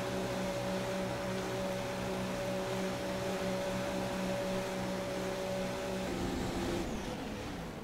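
A Haas Formula 1 car in F1 2016 drives into the pit lane for a wing repair and fresh tyres, its engine holding a steady, close, tonal drone that drops away near the end.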